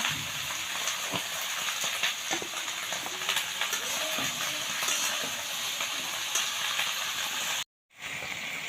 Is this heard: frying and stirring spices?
yes